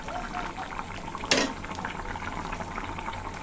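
A thin Bengali curry of green banana, potato and shing fish bubbling in a pot, soft steady simmering with a brief clink of a utensil near the middle.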